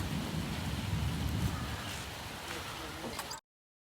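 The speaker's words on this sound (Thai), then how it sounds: "รายงานฝนตกแล้ว" Heavy rain pours down outside a home under construction in Thailand, a dense, steady roar of drops with faint thunder rumbling low, before the sound cuts off abruptly.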